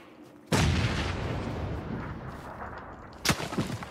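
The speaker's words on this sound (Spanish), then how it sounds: "ahora sí que me han disparado a mí" Gunshots fired at the player in PUBG on the Vikendi snow map: a loud sudden crack with a long rolling echo, then a second sharp report a few seconds later.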